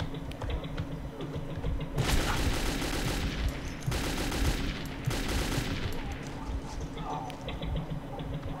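Rapid automatic gunfire in the video game Metro 2033 comes as two long, loud, dense bursts of rattling shots, over a steady background of game ambience.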